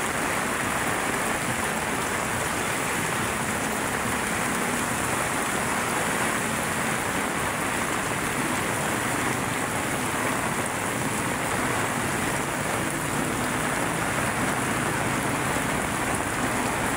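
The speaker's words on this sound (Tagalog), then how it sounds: "lakas ng ulan, grabe" Heavy rain pours down steadily and loud during a flood along Manila Bay, a dense continuous hiss of water on surfaces with no break from start to end.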